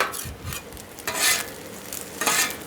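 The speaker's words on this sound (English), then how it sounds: "now we're going to just incorporate our brisket into our fried rice" Brisket fried rice is stirred on a Blackstone griddle: a soft, steady sizzle broken by two or three louder scraping spatula strokes, close and without talk.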